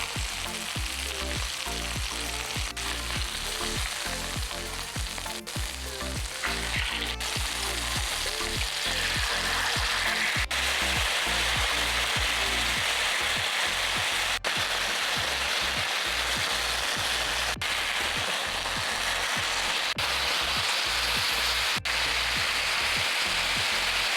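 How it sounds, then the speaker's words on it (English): Buffalo chicken coated in buffalo sauce sears in a pan, giving a steady, close crackling sizzle that carries on throughout with no voices. "Place the buffalo sauce on it, spread it around, let that sear a little bit more, then put the top on."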